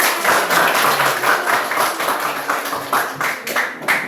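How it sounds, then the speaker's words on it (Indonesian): A classroom group claps hands together in a dense, continuous patter of many overlapping claps, steady and fairly loud throughout with no voices over it. "Tepuk tangan bagi kita semua."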